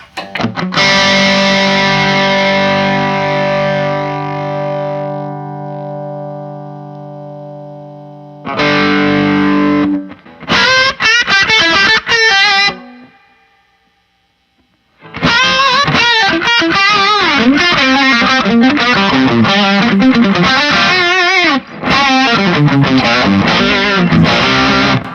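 Electric guitar through heavy distortion on a Line 6 HX Effects unit: long sustained chords, brief pauses, then fast gritty riffs played loud and close.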